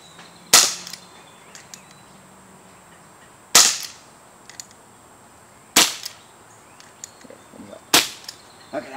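A CR .357 pellet revolver fires four sharp, loud shots spaced a couple of seconds apart, each a crisp crack with a short tail, against quiet outdoor background with faint insect chirps.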